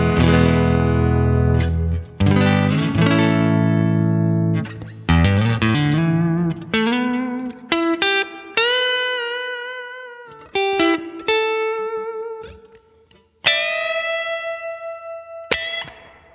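Electric guitar on its neck pickup, volume and tone full up, through a Fender '59 Bassman patch on a Mustang amp with low gain and subtle plate reverb, plays clean chords and then single ringing notes, alone with no talking.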